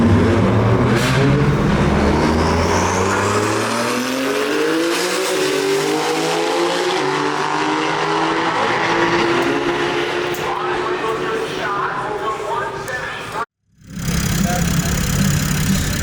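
Drag race car at a Euro drag racing event, fitted with a Miami engines F90 5.0 stroker kit, revving loudly up and down with rising and falling engine pitch, close by, before a brief cutoff and renewed noise.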